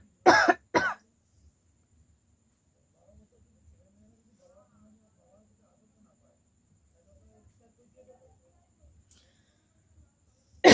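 A woman doing a coughing challenge lets out two quick, loud, close coughs at the start. Near-silence follows with only faint small rustles, then a final cough cuts in at the very end.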